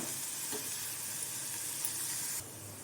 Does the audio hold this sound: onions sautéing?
yes